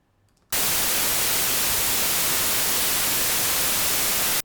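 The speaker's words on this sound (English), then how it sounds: "I'm going to solo the white noise." A burst of loud, harsh white noise starts abruptly and hisses steadily for about four seconds before cutting off.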